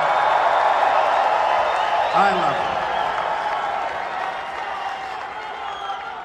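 A rally crowd at an event in Oklahoma City cheers and applauds in a steady, dense roar that slowly fades, while someone speaks over it.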